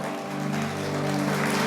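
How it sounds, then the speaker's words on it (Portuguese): A congregation applauding during a church service: a dense, steady patter of clapping hands for under two seconds, laid over sustained, held musical tones. "Mas você vai aplaudir mais forte ainda."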